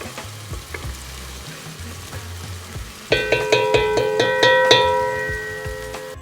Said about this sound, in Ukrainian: цибульку треба гарненько-гарненько висмажити